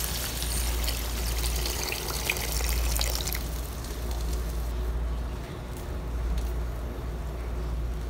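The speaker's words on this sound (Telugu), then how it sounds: "వాటర్ని యాడ్ చేసుకోవాలి." Water is poured into a pan of aloo chicken keema curry, a continuous gentle splashing and trickling pour that stays steady for several seconds and then tapers slightly softer near the end.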